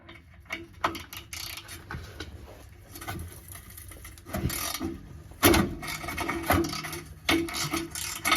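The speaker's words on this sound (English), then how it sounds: "I'm going to start off trying with a 14mm socket" A 14mm socket wrench working on the exhaust bolts of a 2015 Mazda CX-5, with irregular close grinding, rasping and metallic ratcheting bursts of varying loudness.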